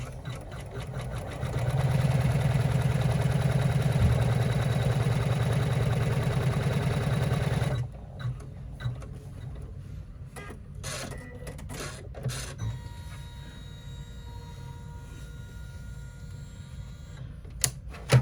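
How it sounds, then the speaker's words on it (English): An embroidery machine stitches out a woven strap in the hoop with a loud, steady, rapid mechanical whirr that stops abruptly, leaving sparse clicks, taps and handling noises. "you don't have to watch the machine stitching out, but this is a fast one"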